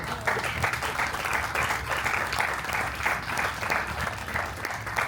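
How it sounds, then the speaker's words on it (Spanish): An audience at a poetry talk in Acapulco breaks into sustained applause after a poem is read, a dense, even wash of many hands clapping throughout. "Le damos un aplauso."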